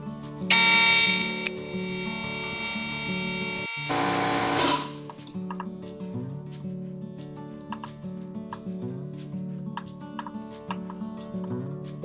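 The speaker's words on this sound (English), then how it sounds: "I'm going to take a little blue and spray it over the side" Two loud hissing bursts of blue spray paint on a crappie crankbait, the first about a second long and the second longer, followed by faint ticking and tapping sounds.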